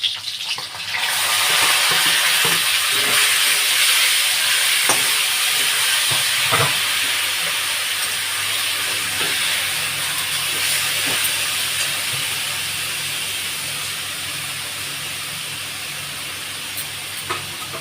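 Vegetables sizzle in a hot pan, a loud, close, steady hiss that flares up as they go in and slowly softens over time, with faint clinks of stirring.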